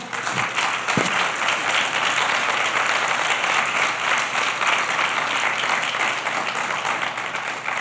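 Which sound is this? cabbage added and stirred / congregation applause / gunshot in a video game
congregation applause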